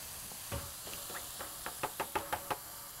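Chicken and vegetable egg roll filling sizzles softly in a pan, with a steady hiss beneath a run of sharp utensil knocks that quicken and grow louder toward the end.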